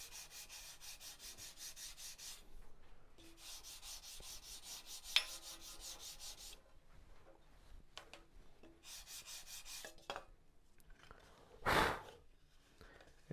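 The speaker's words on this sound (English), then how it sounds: "So now you'll take that side off and you'll sand it lightly." Glued fiberglass sheets lightly sanded by hand, a steady rasping scrub in rhythmic strokes that come in bursts with short pauses, close by and with no talking.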